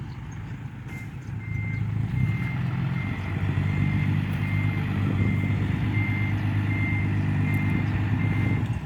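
A backhoe in reverse sounds a steady series of evenly spaced beeps above a low idling diesel engine rumble, heard from a moderate distance with no talk.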